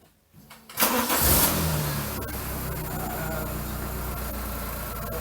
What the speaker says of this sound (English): So I'll just start the car now.